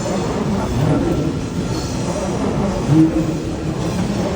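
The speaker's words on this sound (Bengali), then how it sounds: "এক সাইডে গতি দ্রুত গতি যাওয়ার ট্রেন আছে" At a railway station in Rome, a high-speed train rushes past with a continuous loud rumble and rail noise, and a brief squeal sounds near the end.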